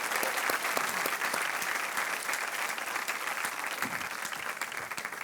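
Studio audience on a televised quiz game show claps steadily and continuously, a dense, even wash of applause that holds at full strength throughout without fading.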